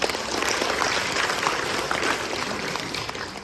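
Applause from an audience at a Buddhist temple choir's 20th anniversary event, a continuous, moderately loud spread of clapping that stays even for a few seconds and tapers slightly at the end.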